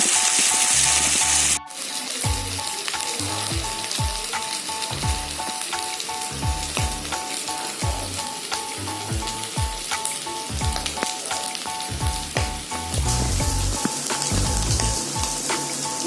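Small masala-coated chuna fish crisp up in hot oil, a loud continuous sizzle and crackle heard up close, broken by a short burst at the start and rhythmic low thumps from the pan throughout.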